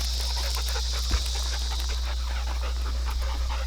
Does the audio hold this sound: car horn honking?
no